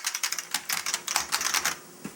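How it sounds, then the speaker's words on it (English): Someone types quickly on the clicky keyboard of an IBM 5155 portable computer, giving a close, crisp run of sharp key clacks in an uneven rhythm, with a short pause before one last keystroke. "the clicky keyboard"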